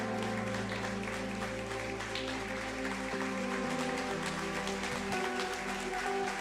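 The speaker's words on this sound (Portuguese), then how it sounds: "fique de pé aplaudindo o nome do Senhor e glorificando o nome dele nessa noite" Church congregation standing and applauding during a worship service, a dense continuous wash of clapping mixed with sustained music and held tones, fairly distant and even throughout.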